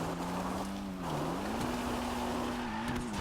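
Dinka Blista Kanjo in Grand Theft Auto Online revving steadily while sliding, a sustained engine drone with a rising and falling pitch and faint tire scrub beneath, loud and continuous with no voices.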